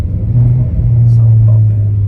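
A Volkswagen Polo GT fitted with K Sport coilovers hums with a steady, loud low engine drone during a test drive, while people talk inside the car.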